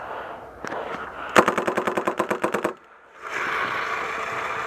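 Rapid burst of about a dozen paintball gun shots at a paintball field, evenly spaced and close, after a few scattered pops and before a pause and steady outdoor background.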